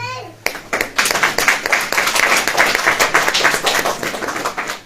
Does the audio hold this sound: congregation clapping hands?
yes